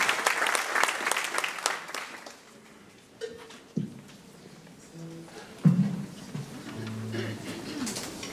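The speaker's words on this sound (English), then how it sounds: "A round of applause for him as well." Concert audience applause at a seventh-grade spring school concert, a short burst of many hands clapping that dies away after a couple of seconds, leaving a quiet room with scattered soft tones and cooing sounds.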